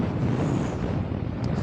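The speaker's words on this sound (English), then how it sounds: "It's that windy, it sort of almost takes your breath away." Strong gusty wind buffets the microphone on an exposed windy spot, a loud continuous low rumble with no speech.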